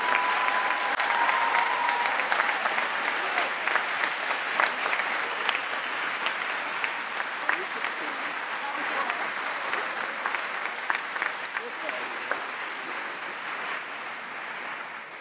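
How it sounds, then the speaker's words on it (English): A convocation audience gives a long, steady round of applause at the joint Boys State/Girls State 2021 ceremony. The dense clapping holds evenly for the whole stretch, with a faint murmur of voices underneath. "ladies and gentlemen, let's please give them a round of applause that they deserve."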